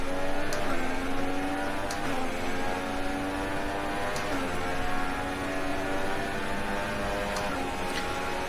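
A Formula One race car in the F1 2016 video game, a Sauber at Bahrain, whines through the gears, its pitch climbing repeatedly then dropping at each shift, steady and loud with no talk.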